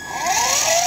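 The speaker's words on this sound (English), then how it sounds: "Motor." A small motor on a boat rigged with a Humminbird fish finder spins up during a quick test, a steady whirring hum with a slowly rising pitch, close and fairly loud for under a second.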